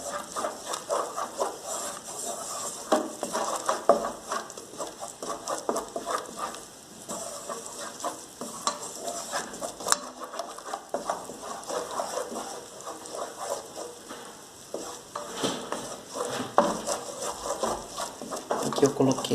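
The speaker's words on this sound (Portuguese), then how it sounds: "É como se estivesse fritando a farinha de trigo." Wheat flour fries in a pan with a steady crackling sizzle while a utensil scrapes and stirs through it, continuing close and even throughout.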